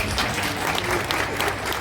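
An outdoor crowd in Marmaris applauds, giving a steady, dense patter of many hands clapping that holds at full loudness from start to finish.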